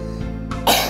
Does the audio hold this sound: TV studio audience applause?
no